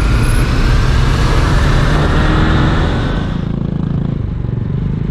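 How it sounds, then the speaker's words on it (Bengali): Road traffic jam stretching for kilometres on a highway near Burdwan, heard from a motorcycle: a dense, continuous rumble of engines and tyres that eases and thins out slightly in the last two seconds. "3 থেকে 4 কিলোমিটার পুরো জ্যাম।"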